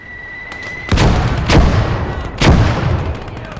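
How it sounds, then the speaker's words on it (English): Mortar rounds exploding in the World War II strategy game Gates of Hell: Red Star Rising, three heavy booming impacts spaced about a second apart, loud and close, over a steady battlefield rumble. "Oh, that was mortars."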